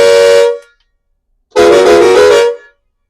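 A loud, deep Tata truck horn blares twice, a short blast followed after a pause by a longer one, with no other sound.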